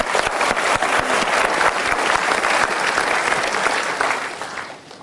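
Sustained audience applause at a Mario Teguh motivational seminar, a steady wash of many hands clapping throughout before tapering off near the end.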